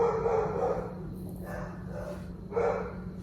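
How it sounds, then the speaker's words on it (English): Dogs barking and yipping nearby in short bursts, with a pause between two clusters of barks. "I'm so sorry about the dogs."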